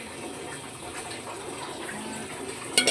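Steady running water pours over whole spices as they are washed at home, making a continuous close gush with no voices.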